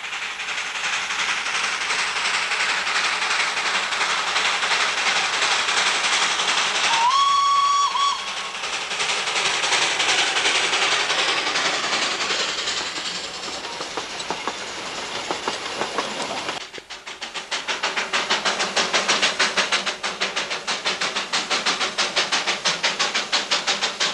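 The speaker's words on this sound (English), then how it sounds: "passenger train was caught here rounding the curve into Mahanadi station" A Darjeeling Himalayan Railway passenger train rounds a curve into Mahanadi station with a steady rumble and rhythmic clatter of wheels. A sharp steam whistle blows partway through, and a loud, close passage of cars follows.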